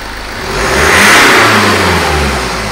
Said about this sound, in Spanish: Os acelero para que podáis verlo con máquina.